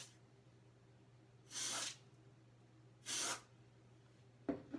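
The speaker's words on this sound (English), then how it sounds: "So yeah, we're going to just shake this and give it a little bit of a spray." Two short hissing bursts of mold release agent from an aerosol can, each lasting about half a second, close and fairly loud over a low steady hum, with a faint knock near the end.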